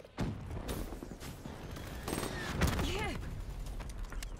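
Rapid bursts of gunfire from a Black Ops 3 multiplayer match, with shots cracking in quick clusters and a sustained volley of firing, mixed with game effects and a voice talking underneath.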